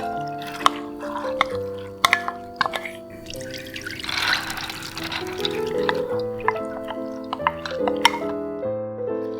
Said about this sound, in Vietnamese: Hai màu còn lại chúng ta cũng vớt ra và để ráo nước.